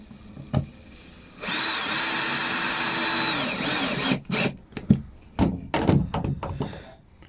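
A power drill with a pozi bit runs steadily for about three seconds, driving Phillips screws into a wooden board for French doors, its motor whine rising and settling before clunks and knocks follow.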